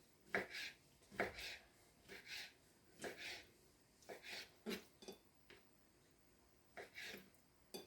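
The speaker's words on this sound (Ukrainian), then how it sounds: "Я нарізаю такими смужками." A knife cuts raw chicken liver into strips on a board in a series of short, uneven strokes, with brief pauses between the cuts; no talking.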